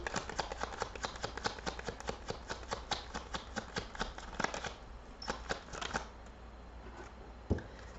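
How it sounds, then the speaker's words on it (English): Tarot cards being shuffled and drawn by hand make rapid, crisp riffling clicks and flicks close up, quieter slides and taps as a card is pulled, with no talk over them. "Let me pull another card and see."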